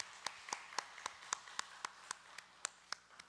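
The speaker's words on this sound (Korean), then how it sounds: "영광의 박수 올려드리겠습니다." Rhythmic, evenly spaced handclaps from a church congregation during a Sunday service, a dozen sharp claps in steady tempo, fairly faint and distant.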